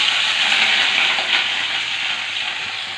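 Onions tipped into hot oil with cumin seeds sizzle in a steady, broad hiss that stays loud and even throughout, with no voices over it.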